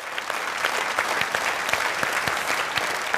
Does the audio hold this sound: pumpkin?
no